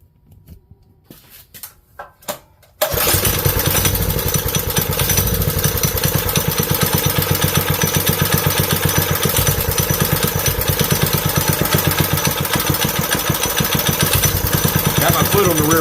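A Vevor 30 series mini-bike engine with CVT belt drive fires up after a few quiet seconds of handling noises, then runs loud and steady close by with a constant rough drone that does not let up.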